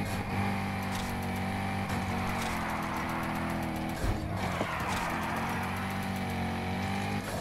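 Chevrolet Corvette Grand Sport drifting in Need for Speed Heat, a loud continuous engine roar with shifting revs and tire squeal, briefly dipping around a gear change before building again.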